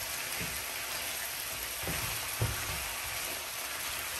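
Beef lo mein with scallion greens sizzles in a hot pan, a steady hiss of frying with soft scraping taps as the noodles are stirred, close and continuous.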